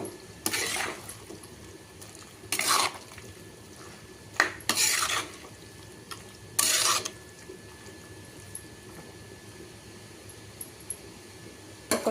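Rice goes into a pot of boiling water on the stove while making chicken gravy, heard as several separate bursts of clattering and scraping from a spoon against the pot, with quiet gaps between them.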